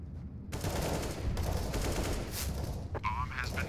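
Rapid gunfire in CS:GO, bursts of shots cracking close and loud over a dense background, with brief pauses between volleys and a faint voice underneath.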